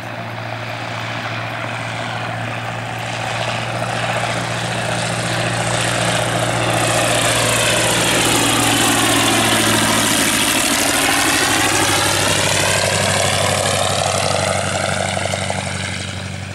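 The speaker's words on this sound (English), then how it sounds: "The one's being prop-swung at the moment. Yeah, they're both running." Fieseler Storch aircraft engines running on the ground at Old Warden, a loud, steady propeller drone and engine hum with a slowly shifting pitch as they idle and rise, no voices.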